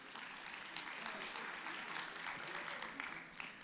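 Audience clapping at a teacher prize ceremony, a faint, distant, even wash of applause that holds steady throughout without voices over it.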